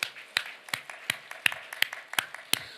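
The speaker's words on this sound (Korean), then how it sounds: "감사의 박수를 영광을 돌리겠습니다" A church congregation claps together, a run of sharp, evenly spaced hand claps rising in short bursts at a moderate distance, with no voices over them.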